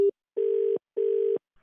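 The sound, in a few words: phone call disconnect tone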